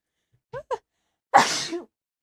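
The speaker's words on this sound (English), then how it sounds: "Oh no, I'm going to sneeze." A couple of brief vocal sounds come first, then one loud, close sneeze bursts out and trails off.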